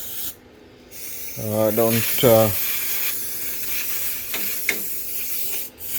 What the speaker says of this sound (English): It's brake cleaner, so it's good for brakes